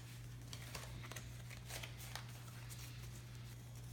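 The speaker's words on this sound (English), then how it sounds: "I will pull a few cards from my Mrs. Cleo deck" Tarot cards from a Mrs. Cleo deck are shuffled and pulled, a soft continuous riffling and crinkling over a steady low hum.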